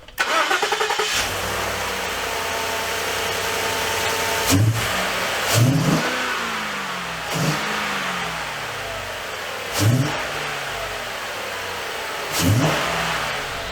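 Car engine cranking and catching after fresh spark plugs, then running steadily with several sharp revs blipped at regular intervals over a rough idle, close and alone.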